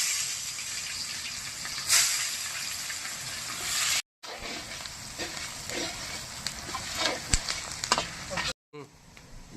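Spice paste frying in a pan for goat curry, a steady sizzle and hiss with stirring scrapes, broken by two short silent gaps, with a voice speaking over the cooking.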